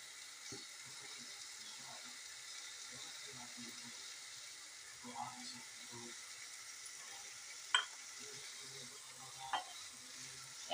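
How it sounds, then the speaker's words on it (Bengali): Chicken sautéing in a pan, a faint continuous sizzle with soft occasional spatula scrapes and taps at a distance. "যত সময় পর্যন্ত আমার মাংসটা সিদ্ধ না হয়, তত সময় পর্যন্ত আমি এটা কষাতে থাকবো।"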